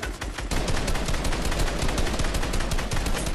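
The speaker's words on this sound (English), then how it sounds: "Oh crap, I accidentally shot." Rapid gunfire rattles nonstop in a video game arena match, a loud, dense stream of closely spaced shots with no pauses.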